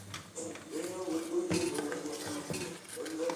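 Coriander paste being stirred into chicken green masala in a pan, with close clinks and scrapes of a utensil against the cookware continuing steadily over a voice in the background.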